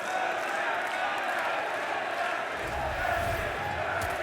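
A large home crowd at a CS2 esports finals match in London roars in a sustained, dense wash of cheering, and it swells louder partway through.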